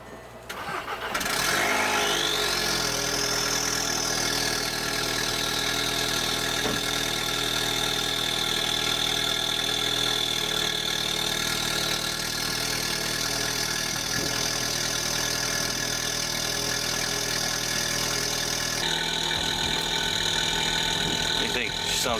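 A VW Mk6 GLI starting after months of sitting: a brief crank, then the engine catches, with a whining rise and a steady idle held for about twenty seconds before a slight change near the end.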